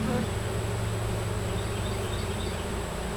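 Honey bees buzz loudly and steadily at an open hive while honey supers are being worked, a dense continuous drone with no voices.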